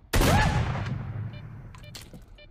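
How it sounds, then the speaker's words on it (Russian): A single loud gunshot with a long booming decay in the S.T.A.L.K.E.R. video game, followed by faint short game sound effects. "Стреляю во все, что движется"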